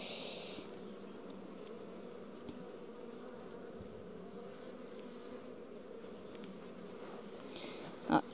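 Honey bees buzzing around an open hive during swarm control and queen cell checks, a dense continuous hum close by with a few louder passes and a short knock at the very end.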